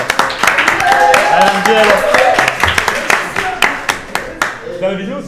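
A room of children and teens at a youth club clap together, a dense run of sharp hand claps that thins to scattered individual claps toward the end, with voices calling and chattering over it.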